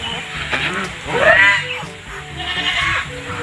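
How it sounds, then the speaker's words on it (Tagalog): Goats on a rural Philippine farm bleat loudly and close by, a couple of wavering calls overlapping with other farm noise and a person's voice. "At saka yung mga kambing."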